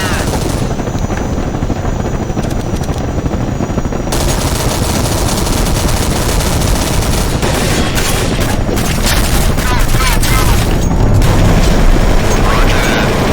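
Gunfire and explosions from a Counter-Strike: Source zombie escape match on a train map, with dense continuous rattling shots and booms layered over one another and a sharper burst of activity after the first few seconds.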